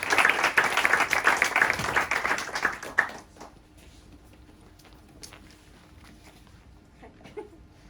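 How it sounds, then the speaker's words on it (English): Audience applause at a Stockholm web development demo day: a burst of clapping from a modest crowd for about three seconds, then it cuts off abruptly into quiet room noise with a few scattered taps. "Applause to Parkhan!"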